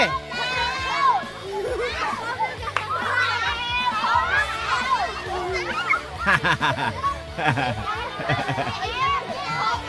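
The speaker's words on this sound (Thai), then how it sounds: "สนุกครับกิจกรรมเนี้ย เสียง แห่งความสุขของเด็กๆครับ" Children playing and shouting outdoors at an art camp in Suan Phueng, a lively mix of many young voices, calls and laughter close by and continuous, with an adult voice among them.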